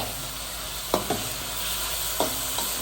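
Shawarma chicken toasting in a pan gives a steady close sizzle, broken by a few sharp scrapes and clinks from stirring.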